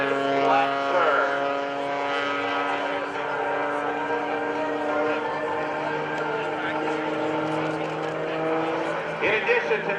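An aerobatic airplane flying a descending inverted flat turn at an Air National Guard open house airshow in Rhode Island, its steady droning engine tone sustained throughout while an announcer talks over it.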